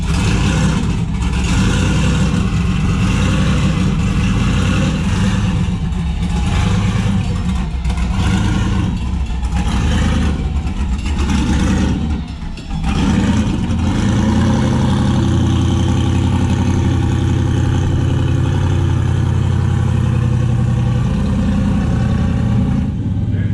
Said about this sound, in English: if I hold the trans brake and then hit the bump button, the car just creeps